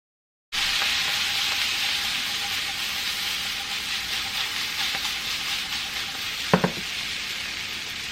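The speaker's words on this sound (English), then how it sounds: "sprinkle on a little of the same seasoning that I use on the chicken, and we're just gonna stir fry this" Chickpeas sizzle steadily as they stir fry in a pan with seasoning and parsley, a bright, continuous hiss with a brief scrape of stirring near the end.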